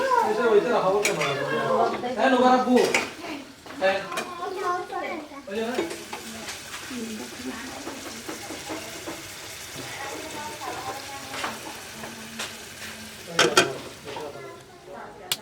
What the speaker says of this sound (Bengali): বড় বড় চিংড়ি মূলা দিয়ে চিংড়ি মাছ দিয়ে রান্না করতেছি